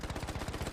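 Rapid burst fire from a Huot Automatic Low Weight rifle in Battlefield 1, a steady string of close, punchy shots about ten per second with no pause across the short stretch.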